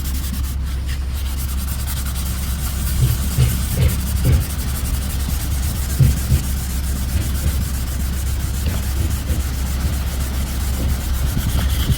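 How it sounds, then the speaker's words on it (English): Wet sanding a scraped plastic car bumper with 800 grit paper on a block, a steady close rubbing hiss with light rhythmic strokes over a constant low hum. "I'm going to wet sand this with 800 grit on a block just to kind of smooth it out."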